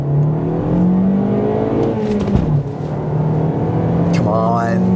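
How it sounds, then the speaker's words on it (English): A 2021 Toyota Corolla Apex Edition with a 2-liter four-cylinder engine accelerates from inside the cabin, its engine drone rising steadily and dropping briefly at a gear change, and a voice comes in near the end. "So let's see how it does when I accelerate."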